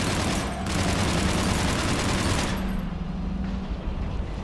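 Sustained heavy gunfire in Mass Effect 3, a loud dense barrage that runs nearly the whole time, eases and thins toward the end, with no voices.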